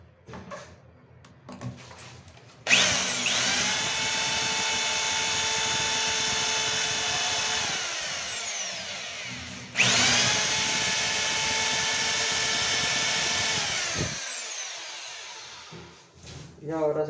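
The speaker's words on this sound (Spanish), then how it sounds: "Enseguida cogemos nuevamente el taladro y hacemos el mismo proceso." An electric drill bores into a bathroom wall to mount fixtures, whining loudly and close in two long sustained runs with a brief gap between them, then winding down and stopping.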